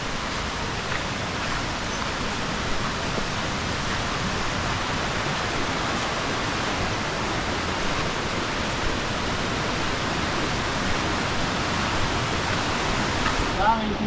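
Badview Falls in Salcedo sends out an unbroken, even wash of falling water, loud and constant throughout, with a faint rise near the end.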